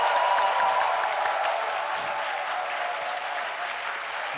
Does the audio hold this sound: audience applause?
yes